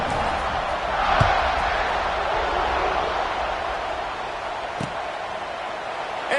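Stadium crowd roars steadily at kickoff in a CFB 26 college football game with Georgia, the broad cheering noise sustained throughout, with a couple of sharp thuds.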